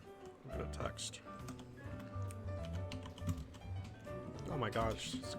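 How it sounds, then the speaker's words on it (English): Computer keyboard typing in quick, uneven bursts of clicks, fairly close, mixed in with ongoing talk and room noise. "Oh my gosh, keyboard"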